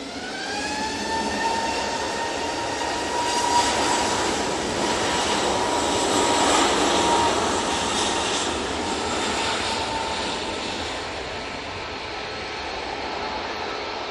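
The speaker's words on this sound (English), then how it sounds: "Off to Pisa. There you go with that easyJet." An easyJet jet takes off from Manchester bound for Pisa, its engines roaring loudly with a whining tone that rises in pitch, then a sustained broad rush that slowly fades.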